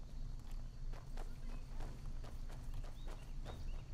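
A horse in the Skyrim video game runs off, its hooves clip-clopping in a steady, fairly quick rhythm over a constant low game ambience, with a few faint high chirps near the end.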